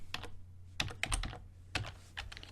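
Computer keyboard typed in short bursts of quick key clicks, close and clear over a low hum.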